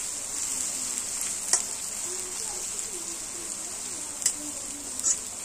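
Ginger and onion frying in oil in a pan, a steady bright sizzle holding throughout with a few louder spits and crackles, close and moderately loud.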